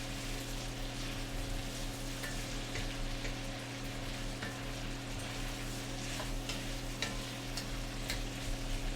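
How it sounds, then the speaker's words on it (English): Vegetables being stirred and sautéed in a pot for a black truffle and artichoke soup, a low continuous sizzle with faint scattered stirring taps over a steady background hum, no voices. "And so you're just going to keep stirring up those vegetables."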